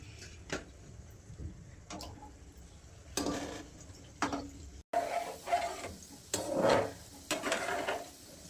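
Gulab jamun balls are dropped into hot oil and fried, with close clicks and clatter of a utensil against the pan and a soft sizzle that grows busier in the second half.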